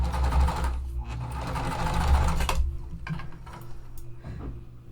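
A sewing machine stitches pieces of cotton fabric, a fast mechanical whirring with clear ticking that runs loud for a couple of seconds, pauses, then resumes in shorter, softer bursts.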